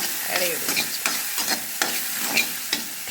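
Food stirred in a hot pan, a run of close, regular scraping strokes over a constant crackling sizzle, with no talking.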